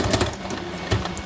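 A home sewing machine stitching a handmade DIY pocket folio, a close, busy mechanical whir with rapid needle ticks and a couple of sharper knocks, running continuously for just over a second.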